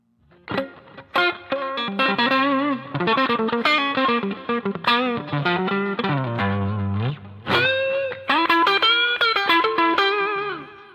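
A crunchy, distorted electric guitar through a Boss GT-8 plays chords and riffs, with 400-millisecond delay repeats and a roomy plate reverb tail; loud and close, no voices.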